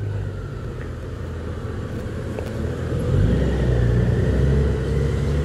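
A Honda Goldwing 1800 touring motorcycle is ridden on the road, its engine a steady low rumble with wind that swells louder partway through as it accelerates, with no voices.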